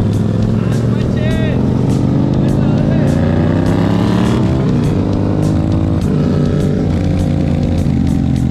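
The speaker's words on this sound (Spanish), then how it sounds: "Mira la moto que va allá." A motorcycle engine drones and revs nearby on a city street, its steady hum mixed with other traffic while people talk loudly over it.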